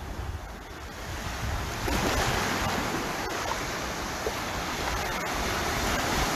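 Sea waves wash in steadily on a beach around someone standing in the shallows, a continuous broad surf roar with gusty wind buffeting the microphone, loud and close, no talk.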